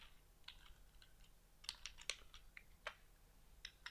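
Keys clatter on a computer keyboard in short irregular bursts and single taps, close and fairly quiet, with no one talking.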